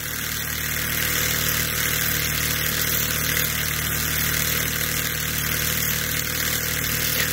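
A tiny Ross Yoke Stirling engine, model J06F, running steadily with a fast, even mechanical hum and whirr, close and constant with no pauses.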